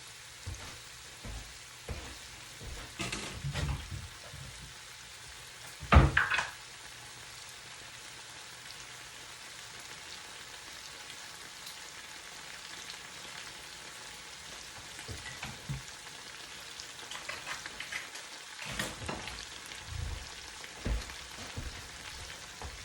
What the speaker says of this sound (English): Then I will now be adding some minced garlic on this to help to tenderize the